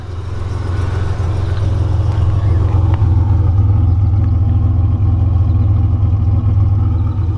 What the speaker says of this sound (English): Let's get a listen to that exhaust.